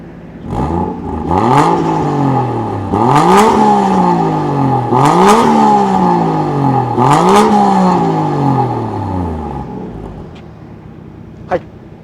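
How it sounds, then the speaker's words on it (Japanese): A Toyota JZX100 Chaser Tourer V with a Taniguchi full dual muffler exhaust, silencers fitted, gets four loud, close revs that each rise sharply and fall back, with a steady idle between them and a brief click near the end. "じゃあちょっと軽く吹かしてみましょう。"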